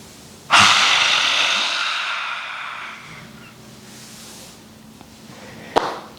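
A long, forceful exhale in a kids' yoga lion breath gushes out loudly and close, tapering off over a few seconds before a quieter pause and a short sharp breath near the end.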